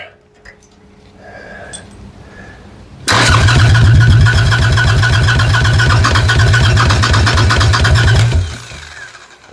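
A Harley Sportster hardtail chopper engine fires up on its first start attempt, catching abruptly after quiet fiddling and running loud and close with a rapid, lumpy firing rhythm for about five seconds before cutting off.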